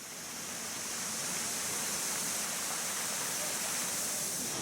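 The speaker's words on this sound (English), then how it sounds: "presenting you with the first waterfall" A waterfall in Bwindi Impenetrable National Park forest gives off a steady, dense roar of rushing water, constant and broadband, with no voices.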